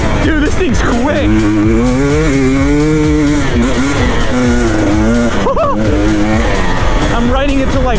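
A dirt bike rides fast on a trail in Hawaii, its engine revving up and down in quick surges, loud and close throughout.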